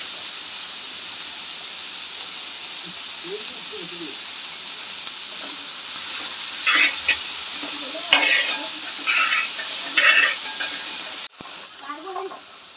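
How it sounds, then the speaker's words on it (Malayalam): Onions sautéed with a pinch of salt in a pan give a steady close sizzle and hiss throughout, with stirring scrapes and clatter toward the end and faint talk in the background. "ഇച്ചിരി ഉപ്പിട്ടിട്ടേ ഒന്ന് നന്നായി വഴറ്റിയെടുക്കാം"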